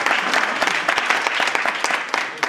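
Crowd at a political rally for candidate Brice Clotaire Oligui-Nguema claps in a loud, continuous, crackling burst of applause lasting a few seconds.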